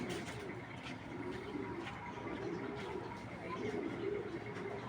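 A pair of Bangladeshi Giribaz pigeons coo in soft, repeated low murmurs at close range over a steady hum of background noise.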